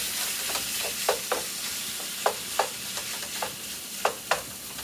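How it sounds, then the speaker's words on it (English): Shrimp sizzle in a skillet under a constant soft hiss, while a utensil knocks and scrapes about a dozen times at an irregular pace as the shrimp are spread out. "I'm gonna add that shrimp right to the skillet."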